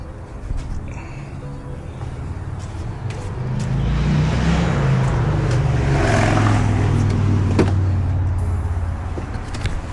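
A 2004–2010 BMW X3 E83 engine starts and runs close by, its low rumble swelling midway and holding steady with a few small clicks and knocks.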